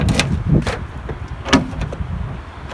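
A door closing on a blue 2007 Toyota FJ Cruiser, several solid thumps spaced over a few seconds, close by and fairly loud.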